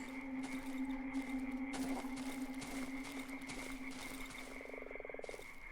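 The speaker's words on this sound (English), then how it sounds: "You at least get the nice chirping of the frogs that run around here." Frogs croak steadily in a rhythmic, pulsing chorus over a constant ambient drone in the swamp of the video game Darkwood, with no voices.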